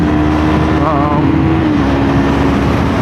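A 2026 Yamaha R3 motorcycle on back roads gives a loud, steady engine drone mixed with heavy wind rush, unbroken throughout.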